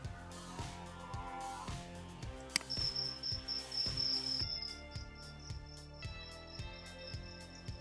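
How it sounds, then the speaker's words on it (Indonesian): A cricket chirps in a steady high-pitched trill that starts partway through, over a regular thumping rhythmic beat. "Itu suara jengkrik"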